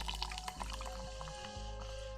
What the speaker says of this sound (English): Let me pour my drink.